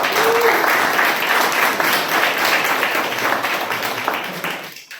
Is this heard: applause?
yes